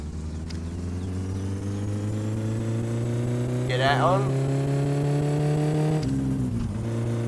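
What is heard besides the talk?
car engine revving, My Summer Car video game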